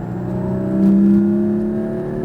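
A Porsche Cayman GT4 accelerates hard around a racetrack, heard from inside the car as a loud, steady engine drone whose pitch climbs smoothly, with no voices over it.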